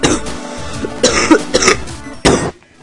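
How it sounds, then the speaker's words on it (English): Several close, loud coughs from one person burst out in quick succession and fill a short stretch without talk, with a brief throat-clearing quality between the bursts. "Oh, I'm sorry about that. Coughing."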